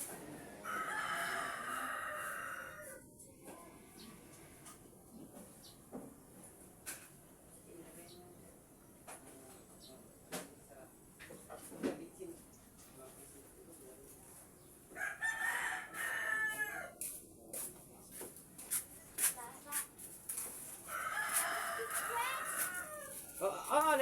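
A red junglefowl rooster crows several times, its calls coming in bursts separated by gaps, heard at moderate distance outdoors over a steady noisy background.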